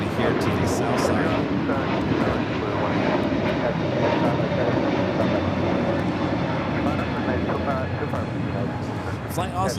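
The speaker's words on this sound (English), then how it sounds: "It's a 12-year-old 777 freighter flying directly above us." A 12-year-old Boeing 777 freighter flies directly overhead at LAX, inbound from Anchorage, its engines a loud, steady broadband roar that fills the whole stretch, with a voice talking over it.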